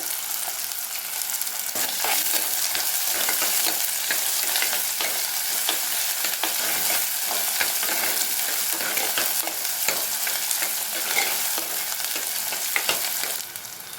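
Small shallots and garlic cloves fry in oil as the base for a Tamil prawn curry, a continuous close sizzle with frequent stirring scrapes and clinks, no talking.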